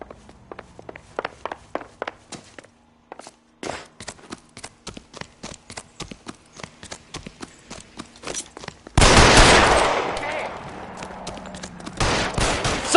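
Gunfire from the L.A. Noire video game: a rapid run of sharp shots, then a sustained loud burst of fire with more shots after, over a steady rhythmic clatter like footsteps.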